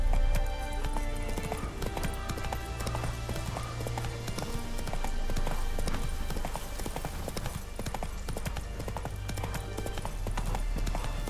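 Horse hooves clip-clop steadily along in The Witcher 3 game, a brisk rhythmic trot heard close up over ambient game sound.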